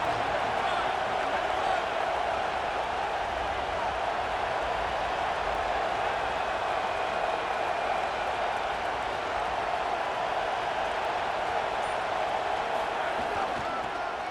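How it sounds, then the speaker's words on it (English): Stadium crowd in an EA Sports College Football video game, a steady, dense roar that holds at one level throughout without pause or obvious swells. "This crowd ready to make its presence known."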